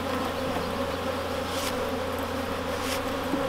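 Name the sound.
honey bees buzzing at an opened hive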